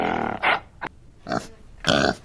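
A pig grunts and snorts close by in several short, rough bursts separated by brief pauses, loud and alone with no talking.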